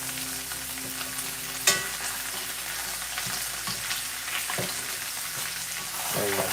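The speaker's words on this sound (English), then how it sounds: "It's definitely giving it some sizzle." Steady, close sizzling of chicken rib eyes frying in a pan, a continuous crackling hiss with a few louder pops and clatters, no voices.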